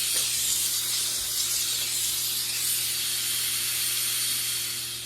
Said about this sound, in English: You can see the steam we're getting on this already.